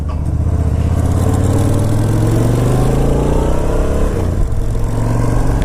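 A Suzuki Boulevard S83 cruiser motorcycle idles on choke, its engine a loud, steady, close rumble with a slowly rising pitch and a faint mechanical clatter throughout.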